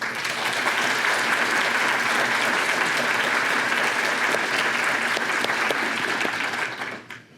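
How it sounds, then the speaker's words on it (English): A large crowd at a college scholarship awards ceremony breaks into loud, dense applause that holds steady for about seven seconds and then tapers off quickly. "Let's give a round of applause for everyone who has donated to the college here with us this morning."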